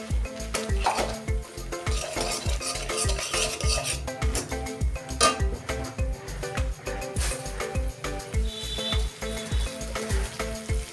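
Spice paste with coriander powder, a little sugar and water sizzles in a pan while a utensil stirs it, clanking and scraping rhythmically against the metal, close and continuous, with no speech.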